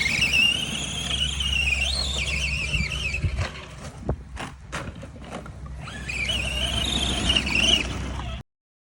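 A weighted RC car's electric motor strains as it tries to climb, giving a loud whining squeal that rises and falls, dips briefly midway with a few clicks, then returns strained near the end.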